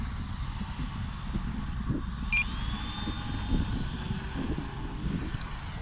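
A Dynam C-47 radio-controlled model airplane taxis outdoors. Its engines give a steady, moderate drone under wind noise and rustling, and a thin rising whine briefly stands out.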